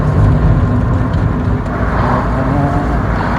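Rover 620 engine with a leaking exhaust runs steadily, a loud, rough, raspy broadband rumble heard close without talk.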